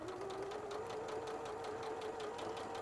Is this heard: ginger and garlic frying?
no